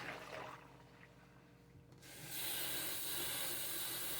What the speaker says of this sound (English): Right now all you got to do is add the water.